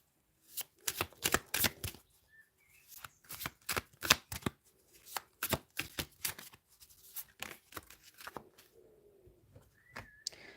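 Tarot cards are shuffled in quick bursts of crisp riffling and slapping, close and clear, repeated many times in a quiet room, with faint bird coos in the background.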